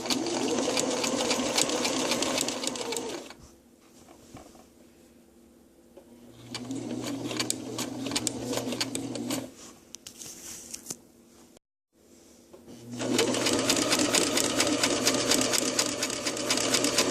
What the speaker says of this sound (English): I'm going to sew both sides.